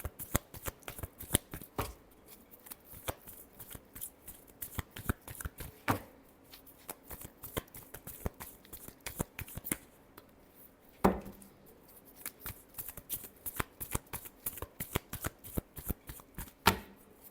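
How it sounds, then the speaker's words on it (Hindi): Tarot cards are shuffled by hand in a long run of crisp, rapid riffling and slapping bursts, close and fairly loud, with brief pauses between passes and no talking. "Last shuffle."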